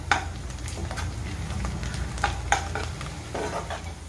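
Tempering spices and chopped carrot sizzle and fry in a pan over medium heat for cashew rice, a steady crackling hiss broken by clinks and scrapes of a spoon stirring against the pan.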